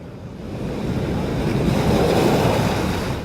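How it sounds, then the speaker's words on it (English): High surf breaks against a pier at high tide, a loud, continuous wash of churning water that swells steadily with steady wind noise across the microphone. "High surf and high tide"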